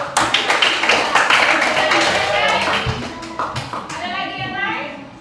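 Classroom applause from a group of schoolchildren, a burst of quick overlapping claps that fades after a few seconds, with a voice speaking near the end.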